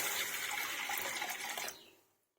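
Water pours steadily and fairly close into a wok for cooking bottle gourd dal, then tapers off and stops.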